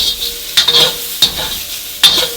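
Vegetables and mushrooms for lo mein stir-fried in a hot pan, a steady sizzle broken by three sharp scraping stirs, close and fairly loud, with no talking.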